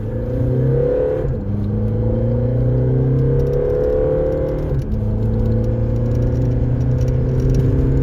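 A Stage 2 tuned Mercedes A200 diesel accelerates hard, heard from inside the car as a loud, rising engine drone with two brief gear-shift dips before the pitch climbs again.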